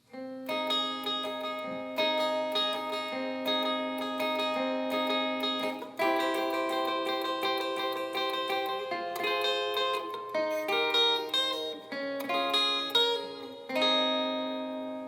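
An electric guitar plays a triad rhythm part at full speed, strummed chords moving through changes in a steady driving pattern, loud and alone with no talking.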